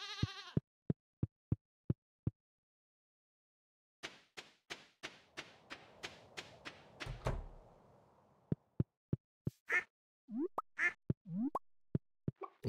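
Goats bleat repeatedly in a farming video game, several short nasal calls in quick succession mixed with sharp game clicks and thumps, clear and isolated with no talk.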